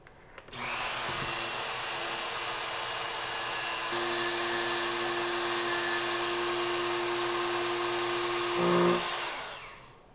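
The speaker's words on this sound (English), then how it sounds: "It's just a little rotary tool. So, using the rock grinding head." A small rotary tool fitted with a stone grinding head shapes stainless steel guitar frets, giving a steady high-pitched motor whine with a grinding edge that swells briefly near the end before spinning down.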